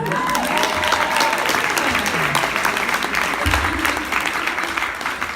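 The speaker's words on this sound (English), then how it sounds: "I think you could give them a little bit more applause." Steady, dense audience applause at a New York City youth mental health and well-being event, a continuous wash of clapping at even loudness throughout, with a few faint voices and tones under it.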